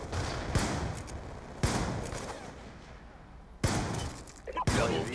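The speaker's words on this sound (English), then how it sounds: "So this is a slug shot." Shotgun slug rounds fired in Black Ops 2, several loud sharp blasts a second or more apart, each trailing off into echoing noise, with game sounds and voices between shots.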